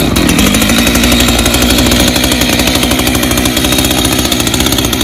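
A chainsaw runs loudly and steadily up close after being started, its engine noise continuous throughout with a harsh, buzzing roar.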